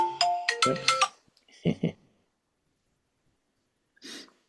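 Mobile phone ringtone from an unknown spam caller, a short bright melodic burst of tones up close, followed by a few breathy noises and a brief faint hiss after a pause.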